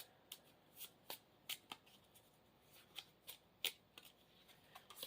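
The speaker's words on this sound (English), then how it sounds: "We have to shuffle our deck." Playing cards are shuffled close by in a quick series of crisp riffles and snaps, fairly quiet, with no talking.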